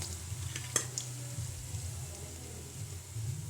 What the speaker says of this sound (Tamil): மல்லியும் ஜீரகம் பொரிஞ்சிருச்சு